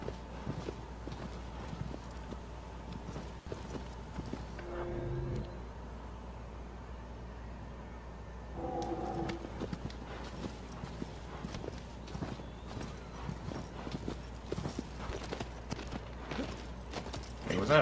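Horse hooves clip-clop steadily in the video game Shadow of the Colossus, a continuous close rhythmic trot running throughout, with a neigh midway and people talking over it.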